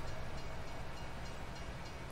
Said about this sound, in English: Comes another damn train.